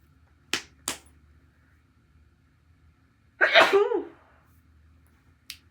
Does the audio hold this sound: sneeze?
yes